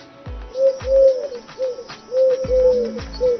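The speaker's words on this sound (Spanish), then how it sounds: "¿De dónde viene ese sonido? ¿Una paloma blanca?" A pigeon or dove gives a series of soft, rounded coos in a repeating rhythm, close and clear, with a few low thumps between phrases and no talking.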